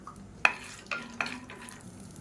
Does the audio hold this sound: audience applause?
no